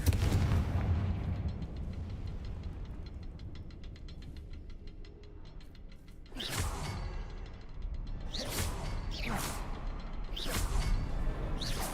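Confringo fire spell blasts in the video game Hogwarts Legacy, with several loud whooshing bursts and booms in the second half following a quieter stretch of crackling game ambience.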